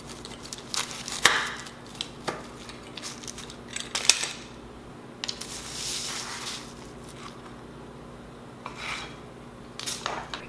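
Knife or cutter slicing through a crispy-crust homemade Hawaiian pizza, with several sharp crunching scrapes and clicks against the pan, separated by quieter pauses, close by.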